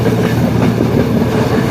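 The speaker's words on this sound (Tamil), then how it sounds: "பாருங்கள் எவ்வளோ சத்தம் பண்ணி சொல்லி ரயில் போய்கொண்டிருக்குது." Train passing close near Kilinochchi, a loud continuous rumble of rail wheels with clickety-clack over the tracks, steady throughout with no voices.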